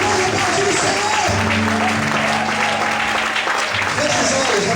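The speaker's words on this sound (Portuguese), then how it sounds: "Você pode aplaudir o Senhor." A congregation at an evening church service keeps up steady applause for the Lord, with continuous crowd clapping and some cheering over sustained music tones.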